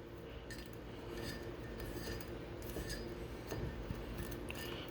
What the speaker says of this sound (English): stir it around using a plastic knife